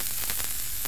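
Rice flour and coconut milk crepe batter sizzling steadily in a hot cast iron pan, a dense, continuous close-up crackle and hiss with no voices.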